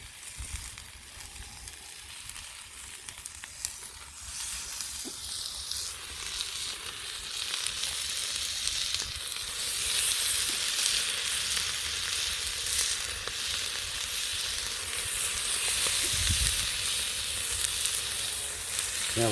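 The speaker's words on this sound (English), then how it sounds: "Oh, sizzle." Moroccan-style pork with spices, garlic, herbs and sun-dried tomatoes sizzling without oil in a pan over a campfire: a steady, close frying hiss that builds slightly and continues throughout, with no talk.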